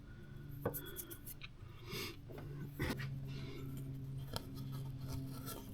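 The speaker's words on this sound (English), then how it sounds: "I'm using the little scouring pad. Just going around trying to remove most of it." A small scouring pad rubs gooey residue off engine parts of a BMW E46 with an M54 engine, producing soft, irregular scratchy scrubbing strokes with occasional faint knocks.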